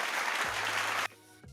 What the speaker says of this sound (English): I see what makes you motherfuckers cheer